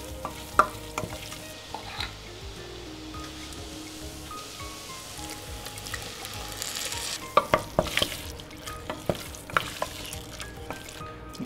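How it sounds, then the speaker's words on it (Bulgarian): Beans are stirred and fried in a pan with paprika and flour, a steady close sizzle running throughout with scraping stirring strokes and sharp pops toward the end, no voices. "Разбърквам, оставям да се запържи за 30 на секунди и изсипвам боба."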